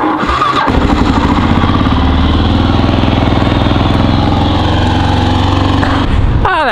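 A KLR motorcycle engine runs steadily and loud throughout, a continuous close throbbing drone on a first ride of the season, with no talking over it.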